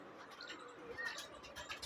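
Pigeons from a breeding pair coo softly and repeatedly, a low, gentle murmuring that sits fairly quiet against faint background noise, with a few brief chirpy calls mixed in.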